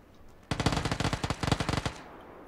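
Automatic gunfire in the video game PlayerUnknown's Battlegrounds, a rapid burst of about a dozen and a half sharp shots lasting around a second and a half, loud and close, with no talking over it.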